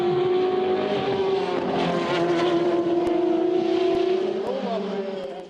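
Ferrari 458 GTE Pro race cars from JMW and AF Corsa battling through the opening laps at Le Castellet, a loud sustained engine drone with shifting pitch, mixed with a commentator talking over it.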